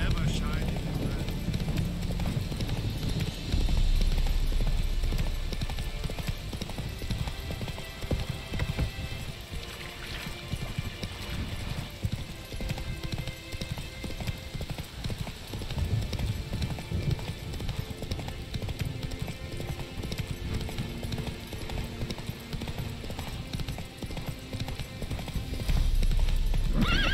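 Roach the horse from The Witcher 3 gallops with a dense, steady stream of hoofbeats, mixed with a whinny and a busy outdoor game ambience, loud and close from start to finish.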